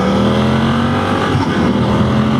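A car engine accelerates in a steady, close drone with a rising tonal hum, heard on a drive around the historic castle town of Conwy with no talk over it.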